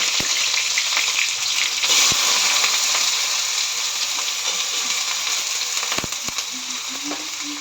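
Sliced onions for beresta frying in a little oil for biryani, giving a steady close sizzle throughout with a few brief clinks of a utensil.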